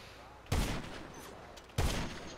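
Two sharp gunshots crack close and loud about a second apart in a GTA Online 1v1 match, each with a short decaying tail over a low background.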